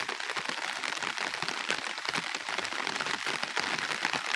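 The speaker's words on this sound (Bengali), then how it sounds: "পুরো ওই কুয়াশা, বৃষ্টি বৃষ্টি হয়েই যাচ্ছে।" Rain falling steadily in fog-covered hills, a dense, continuous patter of drops on surfaces with no voices.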